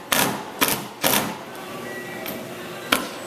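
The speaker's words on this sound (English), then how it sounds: "RJ is driving all of the screws home now." A few sharp mechanical bursts from a power driver sinking screws into the bedded bottom planking of a 1938 Chris Craft runabout set in 3M 5200 sealant: three quick close whirs near together, then a pause and one more.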